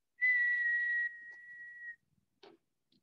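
A person whistles a single long, steady note that fades toward the end, followed by a brief soft sound after a pause, with no talking.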